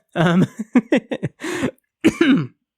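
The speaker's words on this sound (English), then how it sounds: "And there's a cough." A series of harsh, throaty coughs and throat-clearing bursts comes up close, with a short pause before a final pair.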